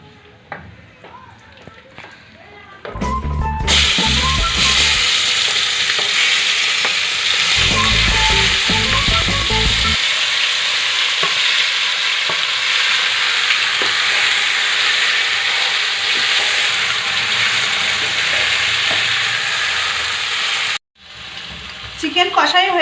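Marinated chicken dropped into hot mustard oil in a wok sizzles loudly in a steady, dense hiss that runs for most of the stretch, with stirring clatter near the start.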